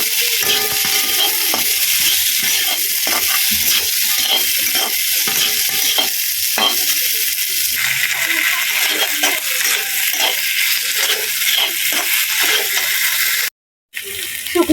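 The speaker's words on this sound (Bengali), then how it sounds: "আলুটা ভালো করে কষাতে হবে।" Potatoes sauté and sizzle in a pan while they are stirred, with steady broadband frying hiss and repeated scraping and clinking strokes throughout, up close, with a short break near the end.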